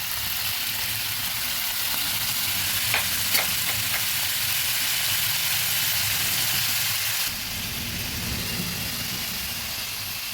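Half spoons of cumin powder and coriander powder sizzle steadily in a hot pan for a vegetarian kabuli chana paneer, with faint scraping stirs under a constant loud frying hiss.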